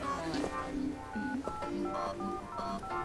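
A telephone automatically redials the last number, giving a quick series of tonal dialing beeps at moderate loudness, with voices partly overlapping.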